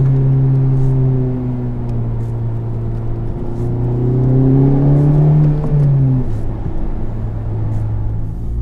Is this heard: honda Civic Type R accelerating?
yes